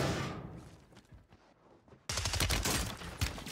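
MX9 submachine gun fire in Warzone 3 rattles in rapid automatic bursts, with a fading, sparser stretch before a loud, dense volley resumes near the end.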